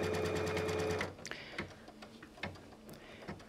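Embroidery sewing machine stitching fabric onto a quilt, a loud rapid mechanical whir of needle strokes for about a second, then stopping, followed by faint ticks and handling clicks.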